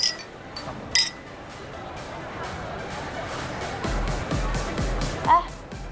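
Glasses clink in a toast at a social gathering. One bright clink rings out early, and a faint chime sounds near the end, surrounded by continuous nearby talking and background chatter.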